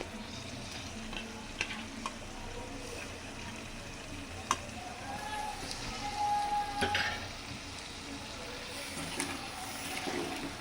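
Small cleaned sand fish drop into a simmering curry in a home kitchen pan, giving a faint, steady sizzle and bubbling hiss with a few soft clicks and taps of stirring scattered through.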